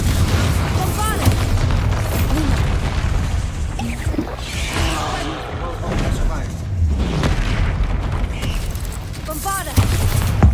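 Bombarda blasting spells exploding during a troll fight in Hogwarts Legacy, loud booming blasts and rumbles layered over a busy game soundscape with a voice speaking throughout.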